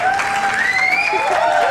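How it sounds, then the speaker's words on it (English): Audience applause at a live comedy show, a loud continuous round of clapping with tonal whistles or cheers sliding over it for the whole stretch. "Give me a round of applause."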